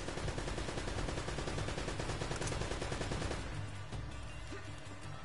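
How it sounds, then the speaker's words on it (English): Rapid, dense machine gun fire in the Uncharted video game, a continuous loud rattling stream of shots that eases slightly in intensity near the end without any talk over it. "Cause I hear loud machine gunning."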